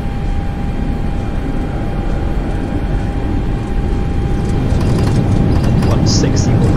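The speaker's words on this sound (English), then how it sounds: "Turn the afterburners on for takeoff. And here we go, full throttle" A Concorde in the X-Plane 11 flight simulator runs its engines at full throttle with afterburners lit for takeoff, giving a loud, steady, broadband roar that builds slightly near the end.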